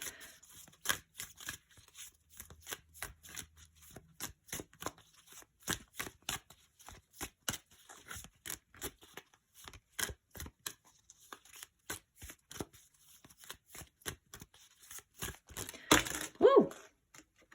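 Tarot cards being shuffled in quick repeated riffles and taps, a steady crisp rhythm of papery snaps, close and fairly quiet, with a brief louder flurry near the end.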